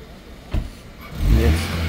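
A car engine catches with a short burst, then revs up into a loud, sustained low roar that builds toward the end.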